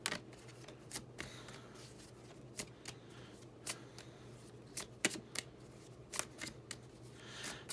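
Tarot cards being shuffled and drawn: a series of crisp, close riffling snaps and flicks comes in irregular bursts against a quiet room hum, with no talking.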